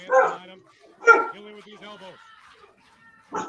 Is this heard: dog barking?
yes